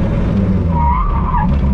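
Renault Maxi 5 Turbo race car braking hard, a loud tonal tire squeal sweeping across the middle of the burst over a steady, close engine and road roar, with no voices.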